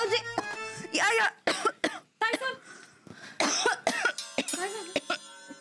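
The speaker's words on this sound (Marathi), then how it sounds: "खोकला झालाय." A woman coughs repeatedly in harsh, uneven fits indoors, with some voiced throat sounds between bursts, close and fairly loud.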